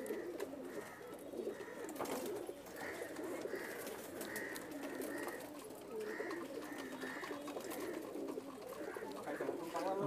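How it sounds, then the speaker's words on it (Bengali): Several breeding pigeons in a loft coo close by, their low rhythmic calls pulsing in repeated phrases across the whole stretch, steady and moderately loud with a faint background hum. "দেখেন ব্রিডিং কবুতরগুলি কেমন করতেছে"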